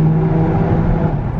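A car engine accelerating while driving, a steady loud low rumble and whir from inside the cabin, with no talking.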